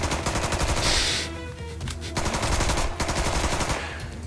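AK rifle fire in the South Park: The Stick of Truth game, loud, continuous automatic bursts of rapid, evenly spaced shots with a brief pause near the middle, close and alone.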